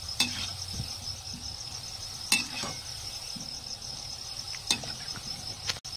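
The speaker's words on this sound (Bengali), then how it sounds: "আমার ভাজা হয়ে গেছে, এবার তুলে দেবো।" Pieces of bread fry quietly in a pan for a sweet dish, giving a faint, steady sizzle with a few sharp clinks or stirs now and then.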